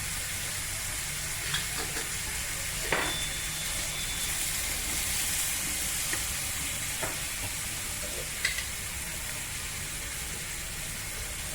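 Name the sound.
vegetables frying with spices in a pan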